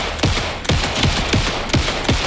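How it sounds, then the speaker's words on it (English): Rapid bursts of gunfire in the video game Alan Wake 2, about five sharp volleys spaced roughly every half second, loud and close with a booming low end. "Anderson, pin him down with gunfire for me to get the light on him"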